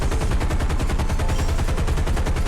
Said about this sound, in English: this is the recoil from the 50 cals on the F4F that most players are used to